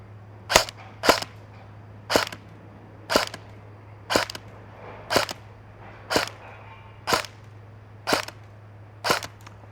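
An EMG Helios F4-15 PDW airsoft electric gun fires single shots across a chronograph, eleven sharp evenly spaced cracks over a low steady hum.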